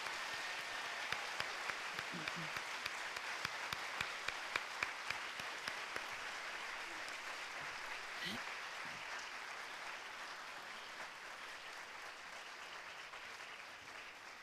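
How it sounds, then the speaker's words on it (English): An audience at a fifth grade promotion ceremony claps steadily for a long stretch, a soft, distant wash of hands heard from the back of the hall, fading slightly toward the end. "Let's give them all a big round of applause"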